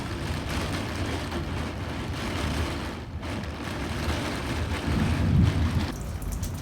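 Heavy thunderstorm rain on the Ionian island of Kefalonia after a hurricane, a loud, steady broadband roar of downpour with a deeper rumbling swell near the end.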